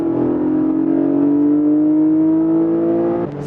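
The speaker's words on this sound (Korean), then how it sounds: "엔진 사운드도 상당히 매력적이죠" A Porsche 718 Boxster GTS 4.0 with sport exhaust, its engine note loud and close as it climbs steadily in pitch under acceleration, then cuts off abruptly near the end.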